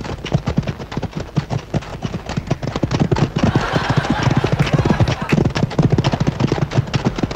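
Horse hooves clip-clop in a steady, brisk rhythm, loud and close, running unbroken for several seconds with a slightly busier texture midway, and no one speaking over them.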